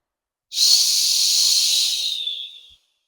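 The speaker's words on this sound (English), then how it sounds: "Marshal Hong heard a loud hissing." A big snake, thick as a bucket and dappled with snow-white spots, gives one long, loud, close hiss lasting about two seconds that fades at the end, with no other sound around it.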